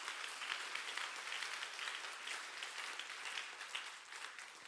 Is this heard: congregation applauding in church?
yes